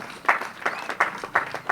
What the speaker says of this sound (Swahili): Jamani, tumpigie makofi.